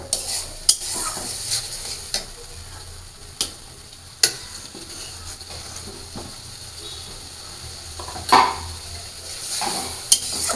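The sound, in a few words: adding and stirring vegetables into dried fish masala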